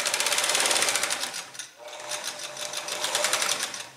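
Sewing machine stitching a shirt cuff placket in rapid, even bursts of needle clatter, close and loud, with a brief pause midway before it runs on again.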